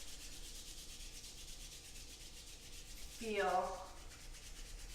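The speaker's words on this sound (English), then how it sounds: "a little bit of friction, and rub the hands faster. Really, really actively" Palms rubbed briskly together during a heart-opening yoga flow, a short burst of dry friction swelling for about a second against a steady background hiss, close and fairly soft, with no talking.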